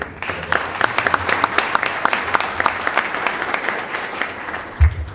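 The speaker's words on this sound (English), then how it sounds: "If we just give Representative Kane a round of applause" An audience at an Armed Forces Day ceremony breaks into sustained applause, a dense, close patter of many hands clapping that continues to the end.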